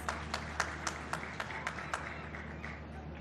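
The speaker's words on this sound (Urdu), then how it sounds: "ہاں تالی بجا کے دکھاؤ." A child claps hands at a political speech event, a string of about a dozen light, sharp claps in an uneven rhythm over a faint hum and distant room noise.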